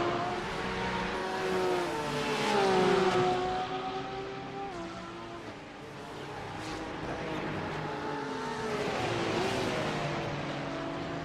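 Porsche GT race cars battling in a sim racing game sprint series, engines droning and swelling as they rev and shift through the laps, overlapping engine notes rising and falling close by with no talk.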